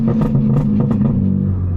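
Low-RPM exhaust burbles from a BMW M4 set to maximum burble, a loud, continuous rumbling drone with rapid uneven crackles and pops running through it, close by.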